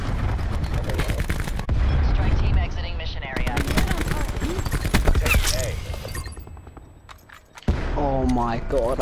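Gunfire in a Call of Duty match on the Nuketown map, bursts of rapid automatic shots and single cracks in quick clusters, loud and close, with a player talking over them.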